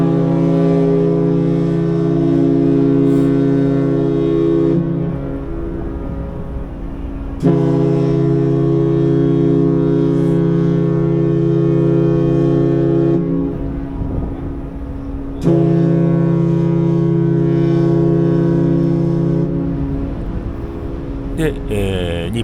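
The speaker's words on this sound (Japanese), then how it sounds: "日本丸がね汽笛を3回鳴らして出港していきます" Ship's whistle from the training sailing ship Nippon Maru departing port, three long, loud, deep harmonic blasts with short pauses between them, each sustained several seconds.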